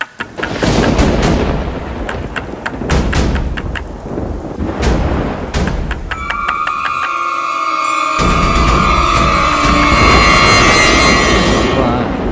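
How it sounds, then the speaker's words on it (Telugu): In a film scene, heavy rain pours outside while loud thunder booms and cracks repeatedly, and a sustained musical drone rises over the storm in the second half. "ఏంటన్నా బయట మంచి వర్షం? విపరీతమైన వర్షం."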